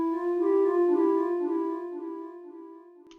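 Synthesized flute part built in Synplant from a sine wave chord with a small noise filter, sounding as one sustained, soft tone with steady harmonics that slowly fades over a few seconds, alone.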